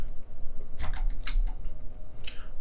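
Keyboard shortcuts tapped on a computer keyboard while modeling a house roof in 3D software give a quick cluster of close, crisp key clicks, then a short pause and one or two final taps.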